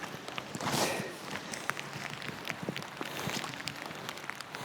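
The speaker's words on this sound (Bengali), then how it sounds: "এই পুরো কাদা দেখে হঠাৎ করে আবার বৃষ্টি শুরু হলো" Steady rain falls in a dense forest on a muddy trail of the Mardi Himal trek between Landruk and Kyupche, heard as a continuous broad hiss with scattered close patters and crackles, swelling briefly near the start.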